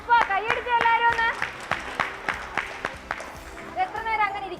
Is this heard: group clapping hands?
yes